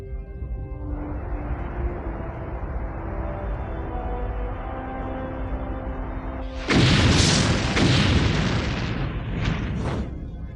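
An asteroid explosion sound effect starts with a low, sustained rumbling drone, then a loud, sudden boom bursts out and rolls on with crackling, roaring debris to the end.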